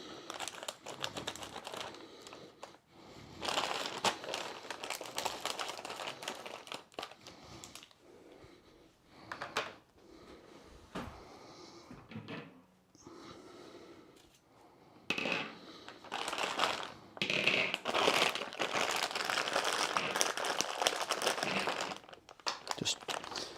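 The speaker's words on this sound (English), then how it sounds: "Apologies if you don't like rustling. There's going to be a bit of rustling." A bag of frozen potatoes is rustled and crinkled at close range, with irregular bursts of crackling plastic packaging handling that swell louder toward the end, with no talking.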